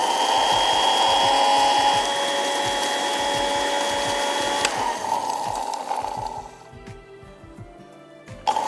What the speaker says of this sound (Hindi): अब हमने इसको पीसना है।